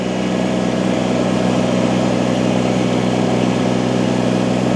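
A turbocharged Kubota BX23S compact tractor engine runs steadily under load while lifting a log, a loud, continuous droning hum with no pauses.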